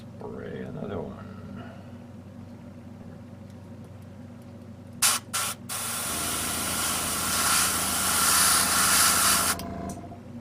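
Spray paint hisses through a stencil onto a ceramic Meisen dome during a repair, with two short bursts followed by a long steady spray of about three and a half seconds after a quiet stretch.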